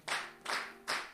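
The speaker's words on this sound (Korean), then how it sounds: "박수 3번." Children clap three times in a church children's service, three distinct, evenly spaced bursts of hands close and clear, with no talking between them.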